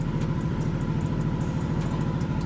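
A Yamaha NMAX V2 scooter with 50,000 km on it idles to warm up, a steady mid-pitched engine chug with even pulsing, close and continuous.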